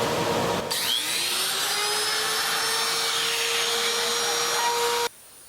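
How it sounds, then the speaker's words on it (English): A small trim router fitted with a tiny bit cuts wood for bow tie inlays, a loud, steady high-pitched whine running for about four seconds before stopping abruptly. "So I switched to my little trim router"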